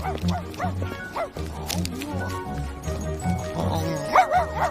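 A small dog named Harbor barks and yips in quick repeated bursts, close and lively, with some whimpering, as people talk over it.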